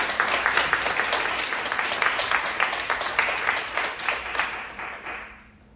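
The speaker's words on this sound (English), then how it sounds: "Let's give another round of applause for our 2 wonderful panelists." An audience at a panel on children's emotional well-being claps for two panelists: loud, dense applause with individual claps standing out, holding steady and then tapering off toward the end.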